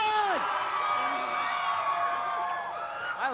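A live TV show audience cheering and whooping during a System of a Down appearance, a sustained crowd roar of yells with no clear clapping.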